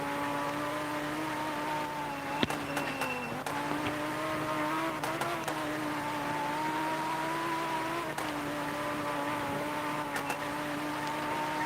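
Mercedes AMG Cup race cars lapping a track, engine tones rising and falling steadily at moderate distance, with sharp brief clicks and pops scattered through, no voices.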